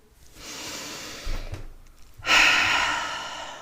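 Deep full-body breaths: a slow airy inhale, a soft pause with a low exhale rumble, then a louder, rushing breath, close and alone.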